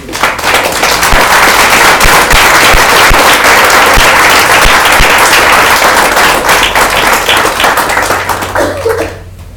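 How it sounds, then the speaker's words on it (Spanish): A church congregation bursts into loud, sustained applause, dense clapping that fills the room for several seconds before fading out abruptly at the end. "¿Puedes darle un aplauso a Dios?"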